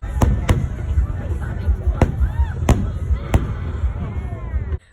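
Fireworks burst under the St. Louis Arch at night, several sharp booms spaced a second or so apart, ringing over a steady murmur of crowd noise and chatter before cutting off abruptly.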